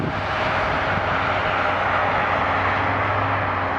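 An Air Canada Airbus A330 lands with a tailwind, its engines a loud, steady, broad roar that holds constant throughout.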